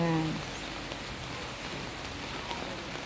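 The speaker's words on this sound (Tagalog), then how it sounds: "Lakas pa rin ang ulan." Heavy rain pours down in steady, dense hiss during flooding, with a brief low tonal sound at the very start before the wash of rain continues evenly.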